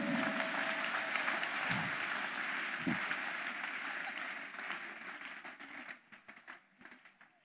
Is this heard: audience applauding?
yes